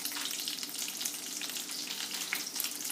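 A ribeye steak sizzles in a pan of butter and olive oil, a steady dense hiss with fine crackling spatters, close and even for a few seconds with no voices.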